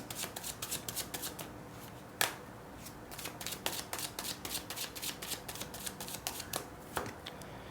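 Tarot cards being shuffled by hand for a reading, a close series of crisp riffles and soft slaps in an uneven rhythm, with no talking.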